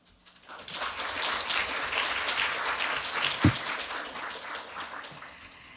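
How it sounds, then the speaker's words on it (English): An audience at a governance forum claps for Professor Naomi Aoki after her presentation: a steady wash of applause that swells, holds for several seconds with one sharp thump, then fades. "Please give Professor Naomi Aoki a big round of applause once again"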